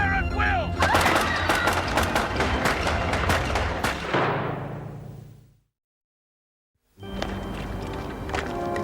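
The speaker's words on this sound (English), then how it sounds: "Rapid fire at will!" Rapid rifle volleys and heavy gunfire crack loudly over a prison siege scene, with a voice shouting among them, dense for about five seconds before cutting to silence, then a busy noisy scene resumes.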